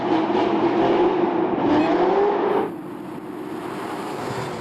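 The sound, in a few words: Corvette ZR1 accelerating indoors on a slick floor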